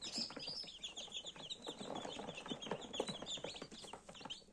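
Incubator-hatched chicks, lively and active, peeping and chirping rapidly in overlapping high calls, close and fairly faint, with no pauses.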